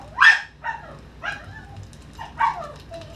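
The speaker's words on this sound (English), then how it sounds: "Shut up, dogs. You don't even know what you're barking at." Several dogs bark indoors during a coin unboxing: four sharp yips and barks spaced about a second apart, fairly close and moderately loud, with faint whimpers in between.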